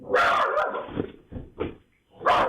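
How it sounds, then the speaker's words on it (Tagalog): A dog barks close by, a few sharp yaps in quick succession with a short pause before a final bark. "umahol ang aso at nagising ang may-ari"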